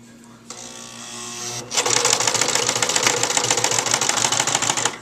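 A sewing machine stitches ribbon along the edge of a cut fabric strip for fabric flowers, starting with a short burst and then settling into a loud, steady, rapid mechanical whir that runs on without pause.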